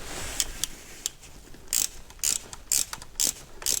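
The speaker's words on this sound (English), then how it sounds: "whoever invented ratchet spanners, thank you." Ratchet spanner clicking while working on a Cors-Air Black Bull microlight engine: a series of close, crisp bursts of ratcheting, about five or six strokes in quick succession, each a short rasping clatter with quiet gaps between.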